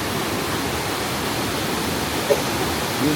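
Clear mountain water runs steadily through the Levent Valley near Kemaliye, a constant dense rushing wash with no pauses.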